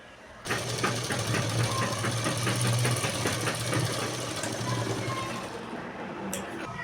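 A sewing machine stitches the seam of a lined blouse, running steadily and fairly loud with a rapid mechanical chatter for most of the stretch before stopping near the end.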